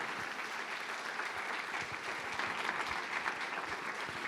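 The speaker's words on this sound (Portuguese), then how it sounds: "E se possível você vai aplaudir o nome de Jesus." A church congregation at a worship service applauds in a steady, dense patter of many hands, fairly faint and distant, with no speech on top.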